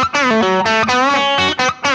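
Electric Telecaster guitar runs through a KHDK Ghoul Screamer overdrive in compression mode one, a vintage 808-style tone, into a Blackface amp. Loud, mildly distorted phrases of bent and sustained notes are heard alone, with brief gaps between them.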